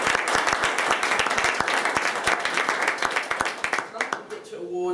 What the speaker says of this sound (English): both teams deserve another round of applause tonight